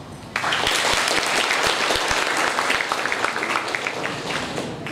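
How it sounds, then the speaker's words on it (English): A round of applause for panelists at a data science panel discussion breaks out after a brief pause, then holds as steady, crisp clapping from a large audience, a few individual claps standing out near the microphone. "so they need one more round of applause."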